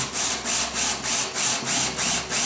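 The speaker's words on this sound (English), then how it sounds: "I find shunting the drill helps the bit go in better" A drill bores into wood while a workbench is built, the bit pushed in with repeated shunting strokes that make a rhythmic rising and falling whir, about eight pulses, close and fairly loud.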